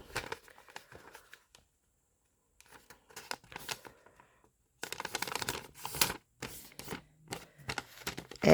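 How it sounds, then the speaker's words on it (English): Origami paper is creased and folded in half by hand, soft crinkling and rustling in scattered bursts with quiet gaps, close and fairly faint. "So you fold into half here again."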